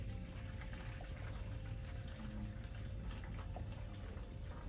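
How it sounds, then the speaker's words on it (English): Cold tap water runs into a BaBylissPRO barber disinfectant solution box, a steady close splashing and gurgling fill with no talking. "Make sure your water is cold, and fill this thing all the way up."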